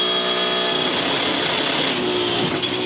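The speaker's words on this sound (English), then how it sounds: "you'll hear the car get onto the rev limiter past this sign" A 2014 Supercars race car in sixth gear at about 266 km/h during the Sandown 500, on the rev limiter, its engine a loud, steady, unbroken drone held at the top of the revs from start to finish.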